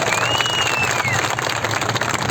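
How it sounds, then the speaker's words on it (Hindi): Applause from a crowd at a labour protest rally, with many hands clapping in a steady, dense patter at moderate volume and faint voices mixed in. "एक जोरदार तालियां होनी चाहिए"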